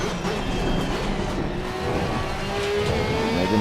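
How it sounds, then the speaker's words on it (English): A Porsche 992 GT3R race car engine in the Assetto Corsa Competizione racing game drones loudly and steadily, its layered engine tones climbing gradually in pitch as it accelerates, with no voices. "That is the appropriate amount of engine noise."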